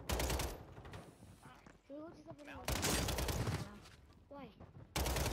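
Bursts of BAL-27 rifle fire in Warzone 3, loud and close, arriving in several separate volleys with quieter gaps between them, where a voice briefly talks.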